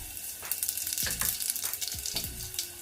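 Mustard seeds sizzle and crackle in hot oil for a mamidikaya pappu tempering, a steady close hiss broken by sharp pops and spatters with no voices.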